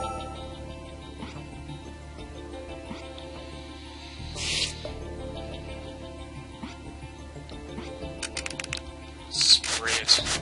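Spray effect in the video game Trauma Team: one short hissing burst midway, then a cluster of quick spray pulses near the end over a quiet game background.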